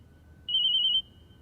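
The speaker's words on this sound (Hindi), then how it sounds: "राजेश को फोन है, मुंह दबाओ" A phone ringtone sounds indoors, one short electronic tone lasting about half a second, clear and fairly close over a quiet room.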